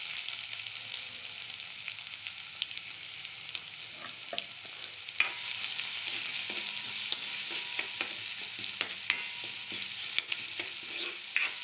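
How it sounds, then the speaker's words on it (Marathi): Chopped onion sizzles in hot oil with cumin, mustard seeds and curry leaves for a chana batata bhaji, a steady frying hiss broken by repeated clinks and scrapes of stirring. "बारीक चिरलेला कांदा टाकून आपण चांगलं परतून घ्यायचं"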